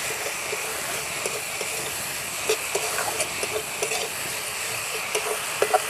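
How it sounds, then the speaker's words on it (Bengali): Spice paste for a duck curry fries in a pan with a little water, giving a steady broad hiss and sizzle with occasional soft scrapes and clicks of stirring, close and continuous, with no talking. "মশলাটা ভালো করে কষে নেব যতক্ষণ না এর গা থেকে তেল ছাড়ছে"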